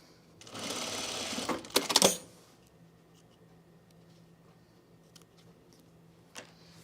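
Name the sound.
sewing machine stitching inside the seam allowance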